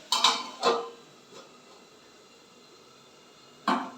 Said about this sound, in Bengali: এবার আমি একটু চাপা দিয়ে দেবো যাতে আলুগুলো তাড়াতাড়ি সিদ্ধ